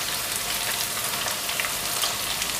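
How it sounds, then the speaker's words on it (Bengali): Breaded chicken strips fry in hot oil, giving a dense, even crackling sizzle that holds steady and close for the whole stretch, with no voices. "জাস্ট 3 থেকে 4 মিনিট মতো ভেজে নিলাম, স্ট্রিপগুলো ভাজা হয়ে গেল।"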